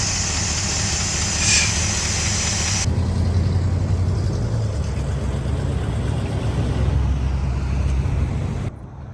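A 454 big block V8 running in an old square body truck after years of sitting, idling with a steady low rumble close by, which cuts off abruptly at the end.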